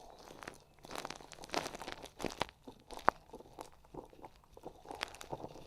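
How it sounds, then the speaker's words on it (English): A screw crunches and grinds into boat fiberglass during a Bimini top install, making a run of irregular close gritty crackles and scraping bursts with one sharp snap partway through. "You're going to hear a little bit of crunching and grinding and stuff you might not like"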